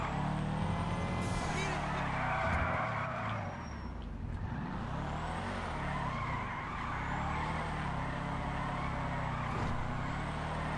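A car in a video game, its engine running steadily while it tries to drift, with a constant drone and occasional tire skidding, continuous and moderately loud throughout.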